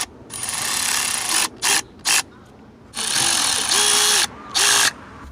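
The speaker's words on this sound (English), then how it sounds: "remove the 2 T20 Torx screws" A power driver backs T20 Torx screws out of the throttle position sensor on a 1999–2004 Jeep Grand Cherokee throttle body, giving close whirring bursts that stop and start with short pauses between them.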